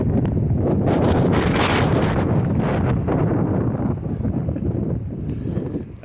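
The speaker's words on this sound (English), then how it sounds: "Oh, it's windy." Strong outdoor wind blows across a North Idaho work site during roofing repairs, buffeting the microphone in a loud, steady broadband roar that eases slightly near the end.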